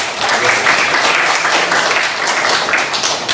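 A classroom of students bursts into applause, dense, steady clapping from many hands for a few seconds at close range, fairly loud throughout.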